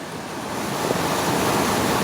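Bryce Creek flows through a forest toward Row River, a steady broad rushing wash of water that swells slightly, continuous and fairly loud with no talk.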